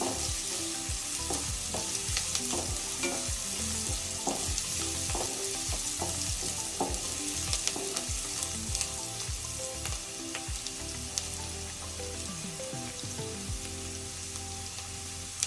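Onions fry in hot oil, a steady crackling sizzle with repeated scraping stirs of a spoon in the pan, close and continuous with no talking.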